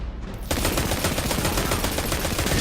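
Rapid gunfire in the video game Destiny 2, a quiet start that breaks after half a second into a dense, loud, continuous burst of shots that runs to the end.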